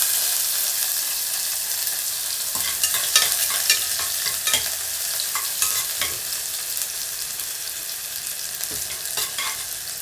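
Half a teaspoon of cumin and finely chopped onions frying in a pan, a constant close sizzle broken by scraping clicks of stirring, with no talking.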